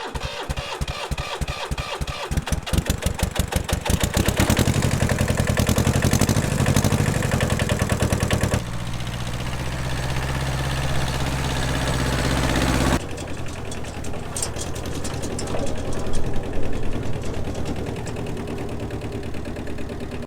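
An old farm tractor with grass growing out of it cranks and starts with rapid rhythmic chugging, then settles into a loud steady idle that shifts in tone a couple of times, running on alone.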